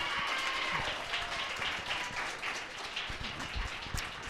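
A rally crowd clapping at an event for direct care workers, a steady wash of many hands sustained the whole time with a few louder individual claps close by.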